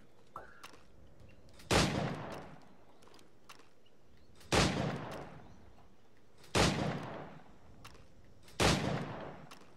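Four spaced gunshots crack out at training targets in Assassin's Creed IV Black Flag, each a sharp burst with a short tail and quiet pauses between them.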